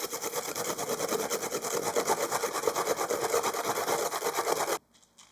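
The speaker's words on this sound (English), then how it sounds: "I just grate off what I need into the bowl" Frozen chipotle pepper grated into a bowl: a close, steady rasping scrape in quick repeated strokes, continuous for several seconds before it stops suddenly.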